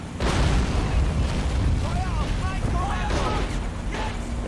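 High-explosive rounds fired and bursting in the World War II strategy game Men of War, with a heavy boom at the start followed by rumbling, crackling battle noise and a dense, sustained low roar.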